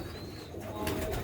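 Sialkoti pigeons cooing nearby, with soft low murmuring calls over a steady background, and a brief bird chirp or flutter late in the clip.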